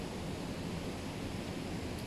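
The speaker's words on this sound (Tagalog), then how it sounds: "Narinig niyo yung current ng tubig. Galing yun sa sapa." Stream current flowing near a lakeside, a steady broadband rush of water with no talk, brief and fairly soft.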